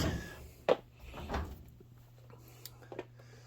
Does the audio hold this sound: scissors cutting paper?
no